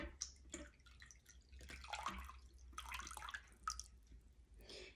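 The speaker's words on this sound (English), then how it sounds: "So you're going to fill up your water." Water pours and drips into a container for a plant-based prosperity ritual, an irregular trickling and splashing that comes and goes in short bursts, close and fairly quiet with no talking.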